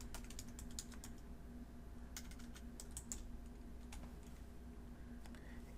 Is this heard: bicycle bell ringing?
no